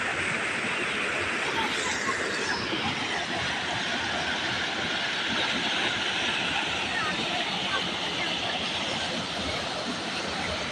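A waterfall at a scenic outdoor spot pours with a steady, loud, close rushing roar of broadband white noise that holds constant without a break from start to finish.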